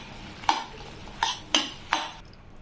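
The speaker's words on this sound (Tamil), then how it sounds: "இந்த மாதிரி கரைச்சி விட்டு கலரி விடலாம்." Fried mushroom masala stirred in a pan at a roadside-style stall cooking, with four distinct scraping strokes of a spoon against the pan at roughly even intervals, close and moderately loud, no voices.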